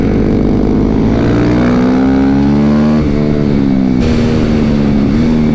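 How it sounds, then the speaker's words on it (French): A 2022 KTM RC 390 motorcycle on a track with slick tyres, its engine revving loud and close with rising pitch through the gears, a brief dip near the middle before pulling hard again. "Ça accélère plus fort."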